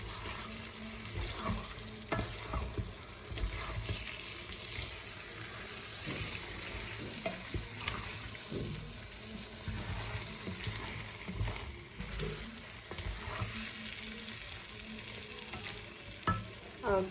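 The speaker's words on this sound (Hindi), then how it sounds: "मैंने अंडे भी शामिल कर दिए हैं अब इसमें। अब हम इनको सही तरह मिक्स करेंगे।" Eggs stirred into masala frying over a low flame for an aloo egg dish, a continuous soft sizzle with regular spoon scrapes and taps against the pan throughout, close and fairly quiet, with no speech.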